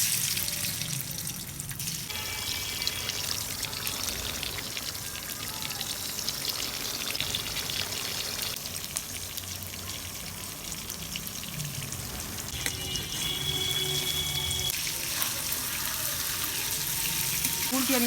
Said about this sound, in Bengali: এই যে আমার মাংসটা ভাজা হয়ে গেছে, এরকম করে ভেজে নেবেন।